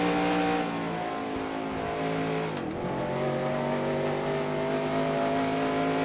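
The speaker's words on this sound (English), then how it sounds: "that engine does not sound good at all" In NASCAR Racing 2003 at Loudon, a stock car engine drones at a loud, steady pitch, briefly dipping as it lifts and then climbing again, its tone rough and unhealthy, with no voices over it.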